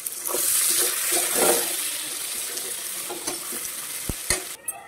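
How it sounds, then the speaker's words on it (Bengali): Onions fry in oil in a pan with caramelized sugar, a bay leaf and a dried red chili for a chicken gizzard curry. There is a steady close sizzle broken by scraping stirs and a few sharp clinks. "এখানে পেঁয়াজটা ভাজা হয়ে এসছে"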